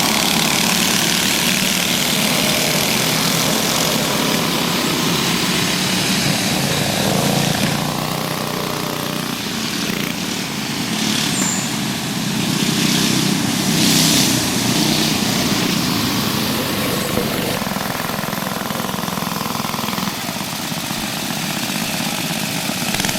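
Small go-kart engines race around a backyard dirt track during a 45-lap feature, a steady loud buzzing drone that rises and falls as karts pass, with no talk.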